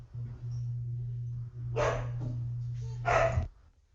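Dogs in the video game Magenta bark in two short, loud bursts near the middle and end, over a steady low electronic hum.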